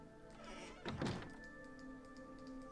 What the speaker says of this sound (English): I just went through the door.